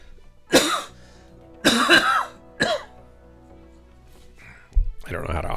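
Three sharp, close coughs from a man streaming Mechwarrior Online, spaced about a second apart, followed by a brief clunk and a murmur of background noise.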